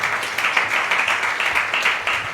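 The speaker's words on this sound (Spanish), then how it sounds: "vamos a darle palmas al Señor" A church congregation claps steadily in time, a brisk, even rhythm of many hands sustained throughout with no voices over it.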